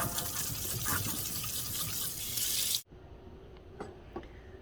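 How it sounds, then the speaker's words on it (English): Hot tap water gushes steadily over cooked, drained pasta in a kitchen sink, a loud broadband rush that cuts off abruptly partway through, leaving quieter room sounds and a few small clinks. "I'm going to rinse it with some hot water."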